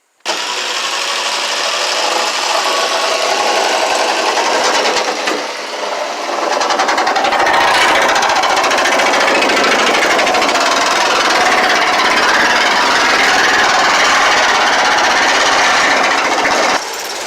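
A jigsaw saws through the sheet-metal wall of a Ford Transit van, a loud continuous rattling buzz that runs nearly unbroken for the whole stretch, with a brief dip and change in tone partway through.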